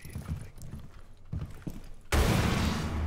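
Dense, loud gunfire from Rainbow Six Siege bursts in about two-thirds through, replacing quieter in-game sounds and footsteps heard earlier, with no voices present.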